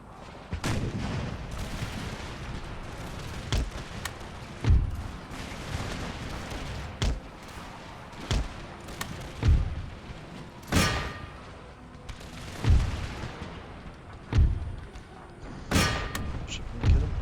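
Musket volleys and booming artillery fire from the video game Empire: Total War, with repeated heavy thuds and crackling shots recurring every second or two over a continuous battlefield din.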